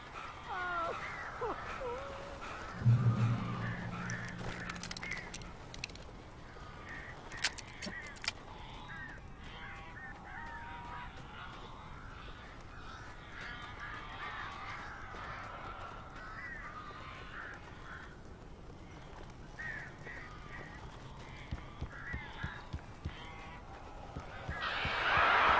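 Crows cawing inside a cabin in Alan Wake, a few harsh caws early on then scattered flapping and calls amid a quiet, dark ambience, with a burst of louder noise at the very end.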